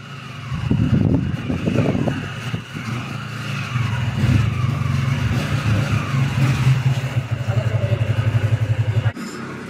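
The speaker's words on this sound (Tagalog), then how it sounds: "Inaayos lang po yung parking ng mga sasakyan" Car engines idle and rev nearby as vehicles are moved and parked, a loud steady motor drone with a rhythmic pulsing engine note building toward the end.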